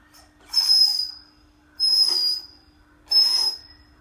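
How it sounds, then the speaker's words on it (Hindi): A child blows a shrill toy whistle three times in short even bursts with gaps between, each blast loud and close with some breathy hiss. "सीटी बजाओ।"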